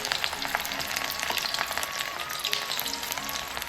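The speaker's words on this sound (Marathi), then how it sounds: "इथं आपण दोन कांदा चिरून घेतलेलं बघा बारकं बारकं ते ह्या तेलात टाकणार आहे" Chopped onions sizzle and crackle steadily in hot mustard oil in a large pot, a continuous loud frying hiss with small pops, no voices.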